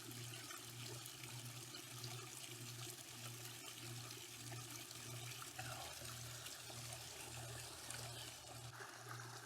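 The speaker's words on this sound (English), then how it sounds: "This is my 5-level waterfall" Constant splashing and trickling of water falling over rocks of a five-level garden pond waterfall outdoors, steady and fairly soft, with a faint low hum underneath.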